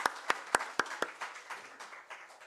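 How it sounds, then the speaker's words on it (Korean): A few sharp, distinct hand claps lead into a short burst of scattered applause from a small church congregation during a Sunday service, fading quickly. "우리 하나님께 감사의 박수 올려드리겠습니다"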